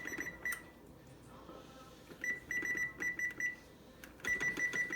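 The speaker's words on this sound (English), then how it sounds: "my timer's gone off" A kitchen timer going off with repeated bursts of sharp, high electronic beeps in quick runs, separated by brief pauses, fairly loud against a quiet room.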